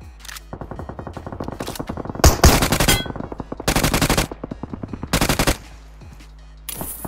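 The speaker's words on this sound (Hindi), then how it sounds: "बिल्कुल पास से मुझे फायरिंग का साउंड आता है।" Automatic gunfire in the mobile battle royale game BGMI, loud and close, in several sustained bursts separated by short pauses, with a faint tail after the last burst.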